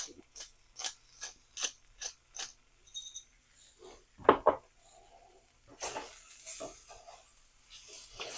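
Black pepper ground by hand with a pepper mill into a big bowl dish with mushrooms, a run of sharp ratcheting crunches in regular bursts, close and fairly quiet, then a louder clatter and more scraping.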